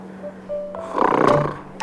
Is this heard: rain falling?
no